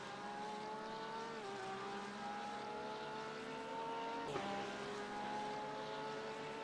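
Two LMP2 prototype race cars in the iRacing simulator at Sebring, a steady high engine whine with shifting pitch as they approach and pass, a sustained drone with a brief sharp change partway through.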